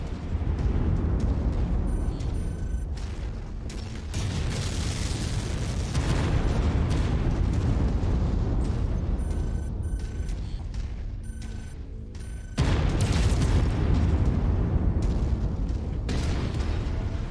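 Heavy weapon fire and explosions from MechWarrior 5: Mercenaries blast and rumble loudly and almost nonstop, with booming impacts and sharp bursts layered over a dense roar.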